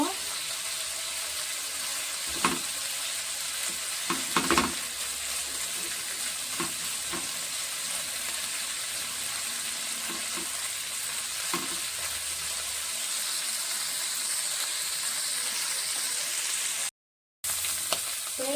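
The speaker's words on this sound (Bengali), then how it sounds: "গেছে মশলা ভাজা" Spices frying in oil in a home kitchen pan, a steady close sizzle with occasional stirring scrapes and clinks, no talking over it.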